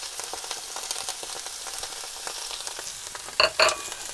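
Sausages browning in a pan with onions, carrots and leeks just added, giving a steady broadband sizzle with crackling spits, and two louder bursts of stirring and scraping near the end.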